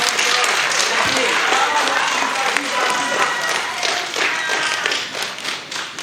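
An audience at a Ghana Hajj event marking the launch of a satellite passport office breaks into a round of applause for the chairman, loud, dense clapping that holds steady and then eases slightly toward the end.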